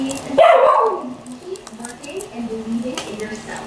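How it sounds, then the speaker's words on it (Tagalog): A dog barks sharply once, close and loud, followed by quieter yips while people talk in the background. "Marami pa raw siya itatahol."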